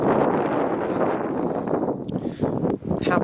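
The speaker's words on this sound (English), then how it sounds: "because it got windy here" Gusty outdoor wind buffets the microphone in a steady, loud roar with brief dips and swells, no voices present.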